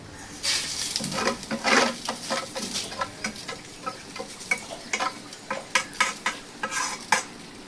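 Sizzling ada frying in ghee in a pan, with repeated stirring scrapes and light utensil taps, close and fairly steady.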